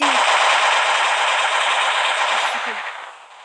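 Sustained rapid automatic gunfire in the online shooter Local Warfare, a dense, loud, continuous rattle that fades slightly toward the end, with no talking.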